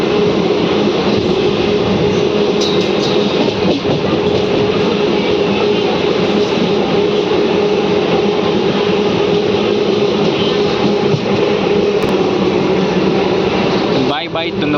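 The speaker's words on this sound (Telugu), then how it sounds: "ఇక్కడి నుంచి మన ట్రైన్ ఆంధ్రప్రదేశ్లోకి ఎంటర్ అవుతుంది." A DEMU passenger train on the Raichur-Guntakal line runs with a loud, steady rumble and wheel noise through the whole stretch, and a brief clatter comes near the end.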